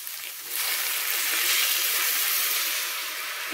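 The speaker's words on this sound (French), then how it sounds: "je les enlève et je viens déglacer au vin blanc" A pan sizzles steadily as white wine hits it to deglaze after browning chicken escalopes, a broad close hiss that swells and holds at even loudness, with no talking over it.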